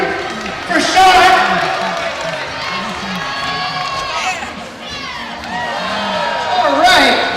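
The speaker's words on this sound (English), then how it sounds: "let's cheer him on here for Sean." Crowd cheering at a San Jose State versus UC Davis basketball game, a loud, sustained roar of voices and shouts that swells near the start and end, with a person talking over it.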